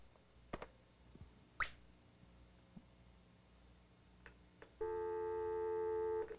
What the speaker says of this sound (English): You can hear the tone of the modem and the dialing tones there